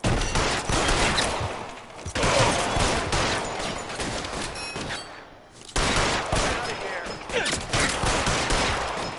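Dense gunfire rattles through a shootout in the LA Noire video game, with rapid overlapping shots in loud, sustained volleys that break off briefly before resuming.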